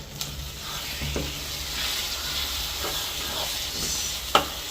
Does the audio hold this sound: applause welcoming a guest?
no